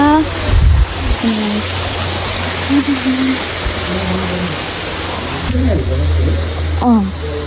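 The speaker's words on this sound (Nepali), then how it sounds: "हेर्न सक्नुहुन्छ झरना" A waterfall near a temple pours in a steady, close hiss of falling water, with voices talking faintly over the constant rush throughout.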